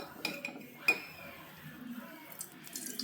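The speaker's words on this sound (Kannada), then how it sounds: "ಇವಾಗ ಒಂದು ಪಾತ್ರೆನ ತಗೊಂಡು ಸ್ಟವ್ ಮೇಲೆ ಇಟ್ಕೊಂಡಿದ್ದೀನಿ" A metal cooking pot is set on a kitchen stove, giving a few light clinks and clanks of metal cookware spaced over a couple of seconds, close by in a quiet room.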